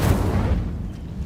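Incendio fire spell cast in a video game, a brief dense whooshing burst heavy in low rumble that fades over about a second, loud and close with no talk.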